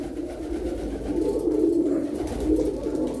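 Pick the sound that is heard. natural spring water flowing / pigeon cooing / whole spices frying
pigeon cooing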